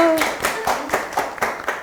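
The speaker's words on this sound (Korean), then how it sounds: "박수." A small group of high school students claps in a short, close burst of quick, uneven hand claps following a self-introduction.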